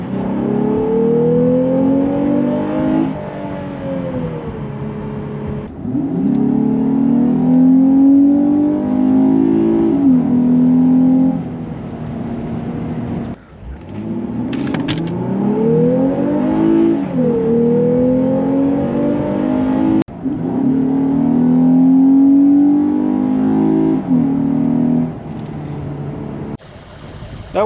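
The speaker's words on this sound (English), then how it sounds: "so we are going to have a little bit of engine noise, but I wanted you to hear what it sounds like too." A 2021 Lexus IS 350 F Sport AWD accelerates hard through several gears, each run rising in pitch then dropping at the shift, loud and close from the cabin, with brief pauses between pulls.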